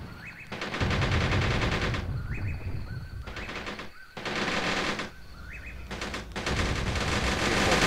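Machine-gun fire crackles in long, rapid bursts during a battle in the war game Graviteam Tactics, with several loud volleys separated by brief pauses and small chirping bird-like cues between them.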